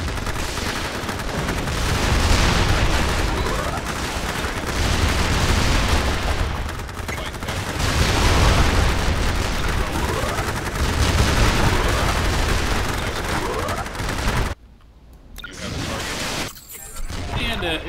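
Heavy battle gunfire in the strategy game Forged Battalion, a dense, loud, continuous barrage with booms mixed in for about fourteen seconds, then quieter scattered shots, with voices speaking over it.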